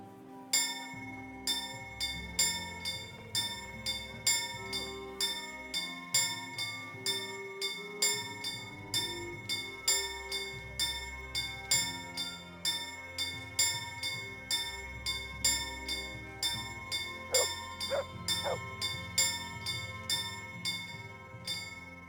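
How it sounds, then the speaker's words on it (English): A bell struck repeatedly in Kingdom Come: Deliverance, sounding in a steady, evenly spaced rhythm of ringing tones, moderately loud and alone for the whole stretch. "Okay, just ring the bell."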